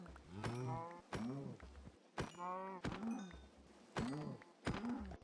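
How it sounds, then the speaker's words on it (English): Minecraft cows moo loudly and close, about six separate drawn-out calls with short pauses between them and a soft thud or two in between. No one talks. "I had to go out and kill some random cows."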